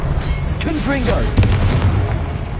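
A Confringo fire spell bursts in Hogwarts Legacy with a booming, crackling blast around the middle, set against dense battle noise and a spoken spell incantation just before it.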